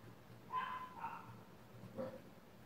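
A dog gives two or three faint barks or yips from a short distance, separated by pauses, over a low background hum.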